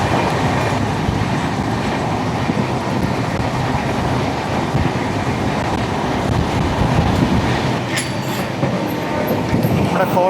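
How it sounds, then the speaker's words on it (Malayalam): The Kottayam Express passes on a Kerala rail line, heard from aboard a moving train: a loud, steady rolling rumble with wheel clatter that continues through the whole stretch, with a few brighter clanks near the end. "നമ്മുടെ കോട്ടയം എക്സ്പ്രസ് പോന്നു."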